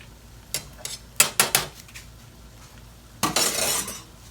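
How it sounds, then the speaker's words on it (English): Cans of tomatoes being opened in a home kitchen, a few sharp metallic clicks and clanks in separate bursts, then a longer scraping rattle near the end, close and moderately loud. "Open my cans here while I'm waiting for that."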